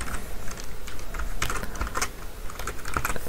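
Rapid, continuous clatter of computer keyboard keys as code is typed, close and fairly loud, with no talking.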